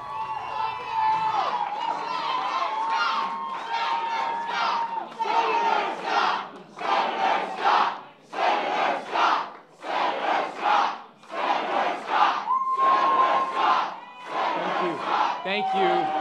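A large election-night victory rally crowd for Florida's Rick Scott roars and chants in rhythmic waves, loud and sustained, with rising and falling bursts of shouting throughout.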